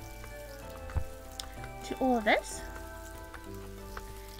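Light rain falls outdoors around a garden bed being fertilized, a soft patter of drops beneath a person talking, with a few sharper taps along the way.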